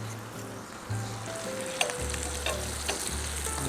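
Generous amount of butter sizzling in a hot pan for chili cereal prawns, a steady close crackling hiss over a low hum, with no talk.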